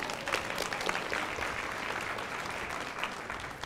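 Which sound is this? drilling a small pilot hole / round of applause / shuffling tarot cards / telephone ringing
round of applause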